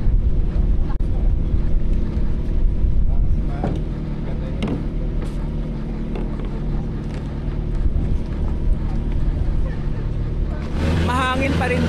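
Steady wind buffets the microphone on an island in Coron, Palawan, a continuous low rumble that holds for the whole stretch, with a possible boat engine droning underneath and a voice speaking over it.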